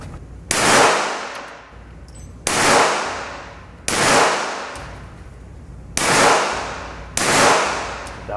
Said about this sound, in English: apply that slow squeeze of the trigger, let the shot roll off